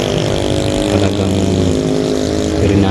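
Motorcycles revving hard and racing along Clark Perimeter road on a hot day, a steady loud engine drone with rising revs and passing machines close by, no talking.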